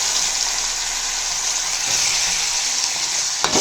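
Chopped tomato and onion frying in a pan with drumstick leaves, a steady close, loud sizzle throughout with a brief clatter near the end and no voices.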